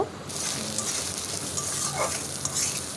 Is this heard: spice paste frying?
yes